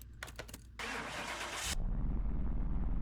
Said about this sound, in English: let's get it started and see what it sounds like